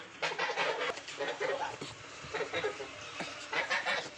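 Village chickens cluck and peck as they are fed cooked rice and millet, soft scattered clucks and bird chatter nearby at low level, with faint background noise.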